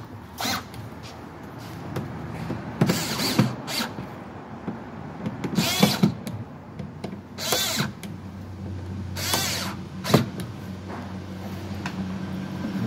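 Bolts driven back into a plastic Igloo cooler hinge bracket with a power driver, sounding as several short whirring bursts of a few seconds each against steady background noise.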